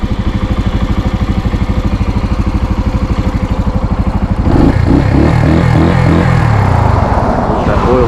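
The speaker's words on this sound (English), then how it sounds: "the bike sounds great" A Suzuki TU250x motorcycle engine runs steadily close by, a dense low rhythmic thrum that grows louder and rougher partway through as it revs under load.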